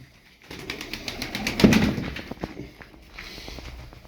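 Tumbler pigeons coo softly at close range among faint rustles and light knocks, a low murmuring that swells briefly in the middle before tapering off.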